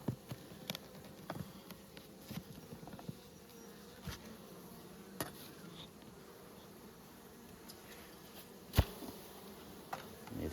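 Honeybees buzzing in an open five-frame nucleus hive in Nymboida, a faint but steady drone close by, broken by occasional sharp knocks and clicks of frames being handled, with no talking.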